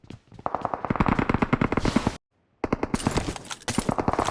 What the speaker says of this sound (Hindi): तो वो उसको शॉट गन से मार दिया